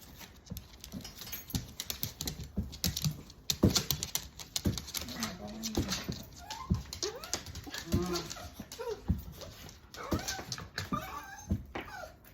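A dog out on a walk makes soft whimpers and snuffles amid patter of paws and scuffing steps outdoors, with a person talking quietly over the scene.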